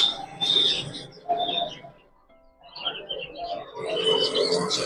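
African lovebirds and zebra finches chirp and call in a pet shop, bursts of close, bright twittering that briefly pause before the chatter picks up again.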